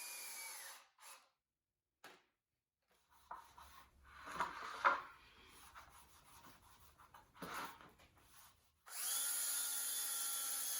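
A power drill driving screws into wooden 1x2 and 1x3 L girders for model railroad benchwork, several short whirring bursts with pauses, then a sustained steady drill run at the end.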